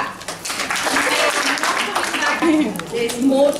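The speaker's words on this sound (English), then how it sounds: "I want you to give yourselves a big clap." Audience at a women's summit clapping briefly, a loose patter of applause mixed with voices and cheering.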